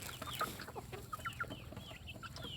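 Free-range chickens cluck softly in a steady scatter of short calls with a few higher squawks, fairly faint, with no voices among them.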